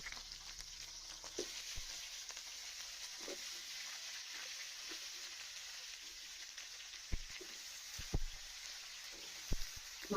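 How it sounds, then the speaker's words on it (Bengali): Spinach and other vegetables tip into a kadai of hot oil tempered with green chili and cumin, giving a steady, close sizzle broken by a few sharp spatters and stirring clicks; nobody speaks. "এবার কড়াইতে একটু তেল দিয়ে কাঁচামরিচ জিরা ফোড়ন দিয়ে সবজিগুলো ছেড়ে দিই।"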